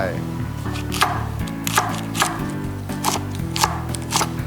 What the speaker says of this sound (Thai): หั่นก้านทิ้งไป